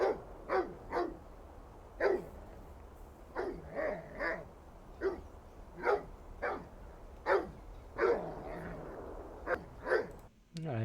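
A dog barks in short repeated bursts, about a dozen single and double woofs spaced irregularly, moderately close and clear against a quiet background, placed in a binaural mix.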